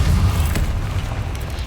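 Incendio fire spell cast in Hogwarts Legacy, heard as a short, loud, low booming whoosh that fades slightly over under two seconds.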